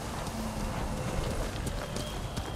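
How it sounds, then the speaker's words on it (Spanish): A horse gallops in the video game Ghost of Tsushima, its rapid hoofbeats thudding under a dense wash of wind and ambient game noise, fairly faint and continuous. "Y aquí está nuestro peculiar caballo."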